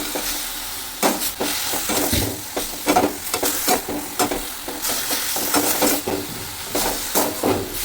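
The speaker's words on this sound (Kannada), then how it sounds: "ಇದು ನೋಡಿ, ಚೆನ್ನಾಗಿ ಈ ಥರ ಮಿಕ್ಸ್ ಮಾಡ್ಕೋಬೇಕು" Fenugreek leaves for methi sabji stirred in a hot pan, a steady sizzle broken by repeated scraping strokes of the spoon at an uneven rhythm, close and clear with no talking.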